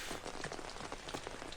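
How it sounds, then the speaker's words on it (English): Steady patter of rain drumming on an umbrella, a dense, continuous wash of close drops with scattered louder taps throughout, no voices. "I love the sound of rain hitting an umbrella."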